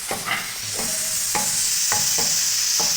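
Chopped onions fry in hot oil in a pan for a moong dal masala, a steady bright sizzle running throughout while a spoon stirs with several soft scraping strokes, close up and without talk.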